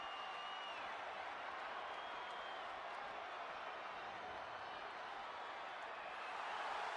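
A crowd in a WWE 2K26 wrestling arena roars and cheers in a dense, continuous wash of noise that swells slightly toward the end, with no clear speech on top.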